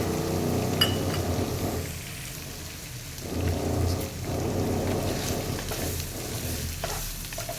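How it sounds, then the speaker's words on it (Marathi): Soya chunks frying in two spoons of oil in a pan, a steady close sizzle with soft stirring and scraping that swells and dips in waves, no voices. "इथे पॅनमध्ये मी दोन चमचे तेल घेतलेलं आहे आणि त्याच्यामध्ये ना सर्वप्रथम आपल्याला हे सोया चंक्स छान असे क्रिस्पी होईपर्यंत परतून घ्यायचे"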